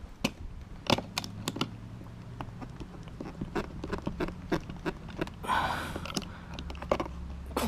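Pliers pulling away cut plastic pieces from a mounting area on a Subaru Liberty (Legacy) GT during a daytime running light install, giving scattered close-up clicks, snaps and rattling taps with a brief scraping burst midway.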